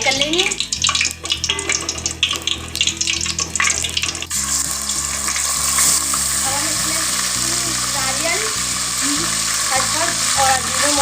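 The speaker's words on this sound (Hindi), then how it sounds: "ऑयल गर्म हो गया, हमने साबुत मिर्ची डाल दी है इसमें। थोड़ी सी मिर्चों को हम फ्राई कर लेंगे।" Whole chillies frying in hot oil in a pan for poppy seed keema, a loud, steady sizzle and crackle that builds after they drop in and fills the clip with no talking.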